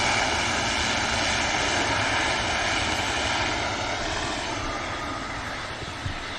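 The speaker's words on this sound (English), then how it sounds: "Some great aircraft on the way out" A departing airliner roars loudly from close by on takeoff at Manchester Airport, its broad engine rumble holding steady and then slowly easing as it climbs away, with no voices.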